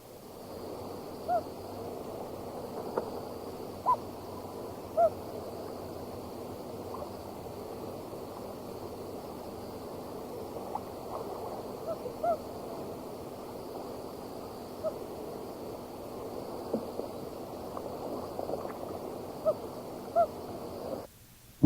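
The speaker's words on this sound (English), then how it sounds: "Here is a series of hoots from a single loon." A single common loon gives a series of soft, low hoots, spaced irregularly and fairly faint over a steady background hiss, with no other voices.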